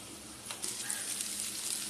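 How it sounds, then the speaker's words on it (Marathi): Potato filling mixed with crushed peanuts is stir-fried in a pan, a low, steady sizzle with a brief scraping stir midway, close and quiet, no speech. "चांगलं आपण 2 मिनिटं फिरून घेऊया आणि मग गॅस बंद करूया."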